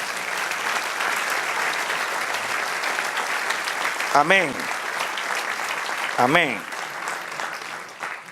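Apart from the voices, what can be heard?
congregation applause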